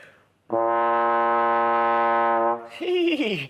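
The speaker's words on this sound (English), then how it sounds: "It is, and it makes a sound a bit like this." A single sustained trombone note held for about two seconds, loud and close, followed by someone starting to talk.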